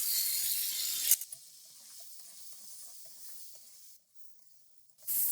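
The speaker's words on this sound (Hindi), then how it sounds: "प्याज और लहसुन और अदरक का पेस्ट डालने के बाद हमने इसको 3 से 4 मिनट भून लिया है" Onion, garlic and ginger paste fries in hot oil in a karahi, with a loud hissing sizzle for about a second before it drops to a faint crackle, then swells again at the end.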